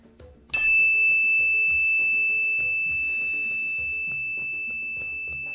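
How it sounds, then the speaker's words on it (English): A meditation bell is struck once, a sharp bright strike that rings out as a clear sustained tone and decays slowly over several seconds, alone with no voices. "this is the bell to clear the mind and bring focus very sharp"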